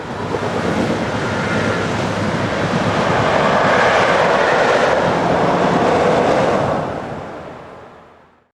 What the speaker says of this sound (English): 110411 propels this service for WÜRZBURG